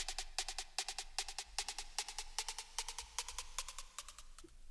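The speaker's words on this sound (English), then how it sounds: "and this other snare layer." Electronic snare layer from a dance track build-up, a fast stream of thin, bright, tonal snare hits in repeating groups, moderately quiet and alone, with a faint underlying hum.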